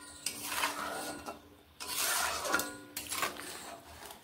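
Small fried fish being stirred in a pot, a metal spoon scraping and clinking against the pot in three bursts of mixing, fairly close and alone.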